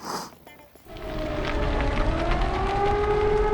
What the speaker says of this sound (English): And now we're hearing sirens.